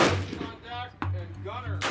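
Rifle shots ring out on an outdoor competition range where shooters engage 12-inch steel gongs at 300 yards. Two sharp cracks sound about a second apart, each followed by a brief ringing tail, with quiet background between them.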